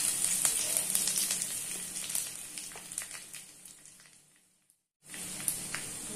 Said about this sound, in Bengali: তেল দিয়েছি, তেলের ভেতরে এই শুকনো লঙ্কাগুলো দেবো।